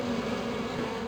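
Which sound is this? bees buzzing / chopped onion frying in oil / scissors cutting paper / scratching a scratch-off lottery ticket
bees buzzing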